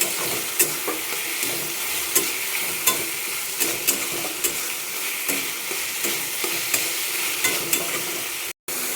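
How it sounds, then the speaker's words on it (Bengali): Fish curry fries in a pan with a dense, loud, continuous sizzle, stirred by a utensil that adds regular scraping knocks close by. No one speaks, and the sound cuts out abruptly near the end. "এবার একটু নাড়া দিয়ে দিই"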